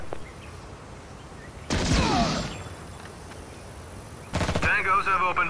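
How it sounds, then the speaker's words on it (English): Enemy gunfire in the real-time strategy game Act of War: High Treason comes as two loud crackling bursts of shots, the second overlapping clipped radio-style voice chatter. "Tangos have opened fire."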